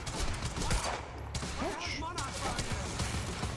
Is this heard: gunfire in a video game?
yes